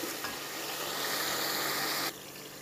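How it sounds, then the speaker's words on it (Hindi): Spice masala roasting in a pan for chicken daleem, a steady close sizzle with light stirring that drops abruptly in level near the end, no voices. "इसको अच्छे तरीके से अपने मसाले को भूनना है"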